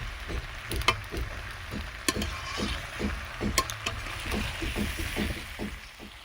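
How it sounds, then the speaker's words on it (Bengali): Chicken curry with potatoes sizzles in a pan as water is added, with a steady hiss broken by rhythmic scraping strokes and occasional sharp crackles. "এবারে আমি জল দিয়ে দিচ্ছি"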